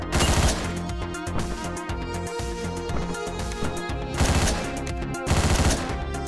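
Rapid bursts of video game gunfire from Hotline Miami crackle almost continuously, with denser volleys near the start and end, loud and without speech.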